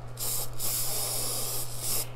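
Sealer sprayed from an aerosol can onto vellum paper, heard as a close, loud hiss in two bursts: one long spray and a shorter one near the end, with a steady hum underneath.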